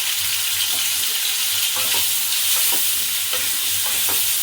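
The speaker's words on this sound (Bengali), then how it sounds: "কোয়াশটা ভাজা হয়ে গেছে" Squash pieces frying in oil in a pan, a steady dense sizzle throughout with a few soft stirring scrapes at intervals, close and fairly loud, no voices.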